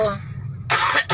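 A woman's coughing, a loud burst of two or three coughs with a short pause, following a stretch of low background hum and indistinct voices.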